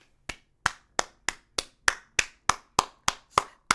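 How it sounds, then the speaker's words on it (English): Slow, evenly spaced claps, about a dozen sharp hand claps in a steady rhythm, close and dry with no crowd behind them, heard at the start of a talk show. "Let's have a round of applause for yourself."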